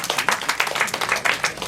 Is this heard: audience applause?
yes